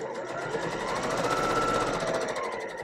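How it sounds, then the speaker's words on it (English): A sewing machine stitches a quarter-inch seam in a quilt block with Y seams, running as a steady, rapid, even chatter for about three seconds, fairly quiet and heard alone. "I'm going to sew a quarter inch, and I'm going to stop right at that mark that I made earlier."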